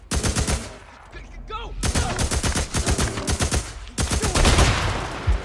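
Loud bursts of rapid gunfire aimed at a bear in the post-apocalyptic game Days Gone, volleys of close shots separated by short pauses, with a brief vocal sound in one gap.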